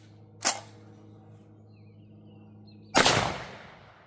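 Two loud, sharp gunshots a few seconds apart, fired at a cardboard target, each with a short echoing tail over a low steady hum.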